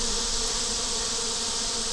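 A dense swarm of honeybees hums outside their hive on a hot afternoon, a loud, unbroken close-up buzz with no pauses or voices.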